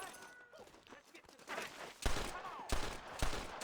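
Gunfire in the Western video game Red Dead Redemption, loud sharp shots bursting out in rapid volleys after a quieter opening, with brief gaps between the salvos.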